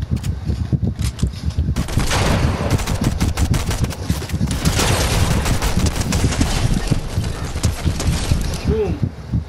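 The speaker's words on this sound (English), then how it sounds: "Stop shooting at me, my guy." Rapid gunfire in the video game Fortnite: dense bursts of shots rattle almost continuously over several seconds, with a player talking over the shooting.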